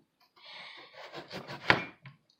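A knife slices a peeled rutabaga in half on a cutting board, a short scraping push through the dense root ending in one sharp knock as the blade hits the board, close and quiet.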